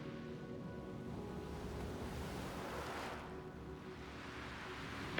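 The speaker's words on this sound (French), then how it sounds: "Appréciez la fraîcheur de l'océan." Ocean waves wash steadily onto a shore in a continuous broad rush, with a swell building near the middle. Faint wind runs through it and no one speaks.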